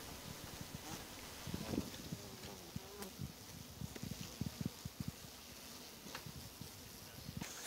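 Bees in a catch box during a hive cutout, a dense, steady buzzing hum heard up close, with faint rustling and occasional soft knocks underneath.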